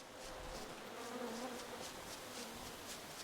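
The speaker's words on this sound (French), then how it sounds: "J'entends des mouches." Steady, faint buzzing of flies in the video game Don't Starve runs continuously as a soft insect drone throughout, with no talking.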